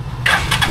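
A Rusi Chariot 175 motorcycle, left unused for a week, cranks and its engine catches, a short loud start-up with a couple of quick bursts, heard close and alone.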